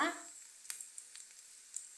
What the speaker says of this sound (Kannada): ಈ ಒಗ್ಗರಣೆಯನ್ನು ಹುರಿದಂತಹ ಸೊಪ್ಪಿಗೆ ದಂಟಿಗೆ ಹಾಕುವ